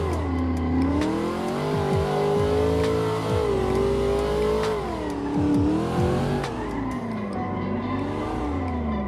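A Corvette engine in a racing video game revving hard and continuously through gear changes, its pitch rising and falling with brief tire squeals, loud and up front.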